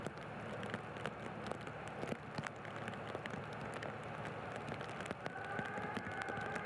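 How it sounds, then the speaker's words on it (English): Rain patters steadily on trackside cameras at a motor race at Slovakia Ring, with scattered sharp drop ticks over a dense hiss; no voices. "the rain pattering on the cameras"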